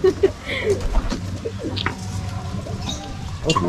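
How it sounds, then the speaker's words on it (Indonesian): Pigeons cooing at an animal house in Bandung, soft repeated throaty coos and a few chirps close by, mixed with indistinct background chatter and bustle. "Oh, burung juga burung."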